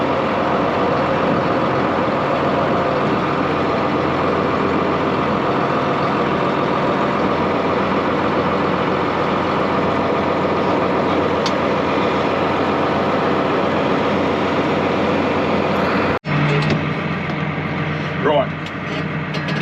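A 10,800 engine idles steadily after a cold start on a frosty minus-two morning, a constant low rumble running loud and even throughout, with a brief click near the end.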